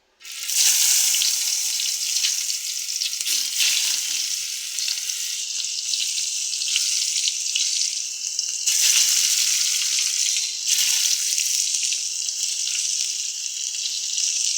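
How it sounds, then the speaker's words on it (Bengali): Eggplant pieces frying in hot oil in a pan give off a loud, close, continuous sizzle and crackle that lasts throughout with only small swells, no talking. "এখন এই তেলের ভিতরে আবার দিয়ে দেব বেগুনগুলো"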